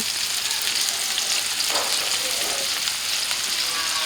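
Chopped garlic and torn dried chili fry in hot oil in a pan, giving a dense, even sizzle with one brief stir partway through, close and steady, with no one talking.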